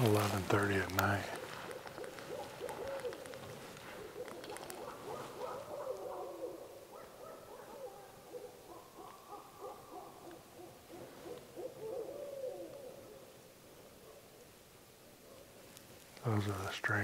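Owls hoot at night on a Missouri property in long, warbling, overlapping calls, fairly distant and rising and falling, with louder handling noises at the start and end.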